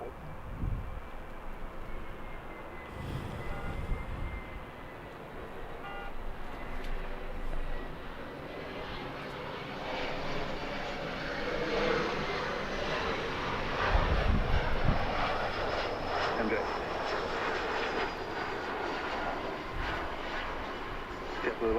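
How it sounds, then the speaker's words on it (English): Airbus A380 airliner at Los Angeles airport, its broad engine roar rising and swelling steadily across the whole stretch, close and continuous, with faint talk underneath. "That one is a very, very, very nice A380 too."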